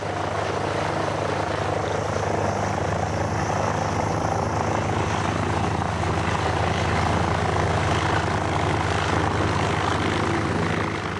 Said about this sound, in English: it gives a vivid impression of what a Wright airplane would have looked like in the skies above Dayton